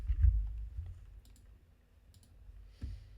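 Keys clicking on a computer keyboard during Python coding, a few scattered soft taps and clicks close by with quiet pauses between them.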